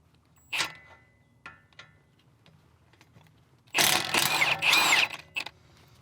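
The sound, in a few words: wrench removing nut from Subaru sway bar end link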